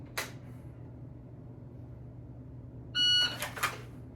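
A shot timer's electronic beep, one loud tonal bleep near the end followed by a couple of sharp clicks, after a single early click and a quiet background.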